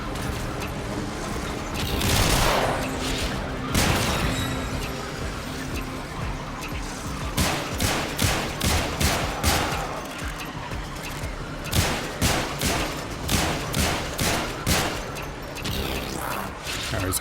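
Rapid bursts of gunfire in the video game Warframe crack out in several volleys, with the densest run of sharp shots late in the stretch over a busy, loud game-sound backdrop.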